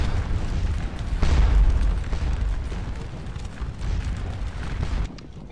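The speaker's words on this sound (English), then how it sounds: "The artillery are opening up." Artillery cannon fire on a Napoleonic battlefield in the video game Scourge of War: Waterloo, a heavy booming rumble that swells and rolls on with repeated dull blasts, then cuts off abruptly.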